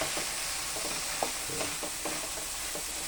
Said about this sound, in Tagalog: Lagyan na po natin yung pinalambotang beans.